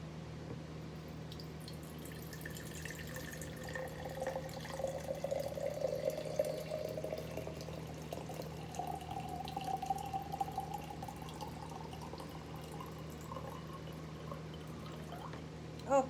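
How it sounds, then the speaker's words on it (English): Water pours steadily into a glass jar for a long stretch, a soft continuous trickle with a faint rising tone, close and fairly quiet. "let's put some water in this one."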